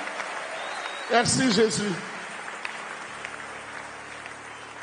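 A church congregation clapping for Jesus, a steady wash of applause that fades slightly over time, while someone briefly speaks over it near the start.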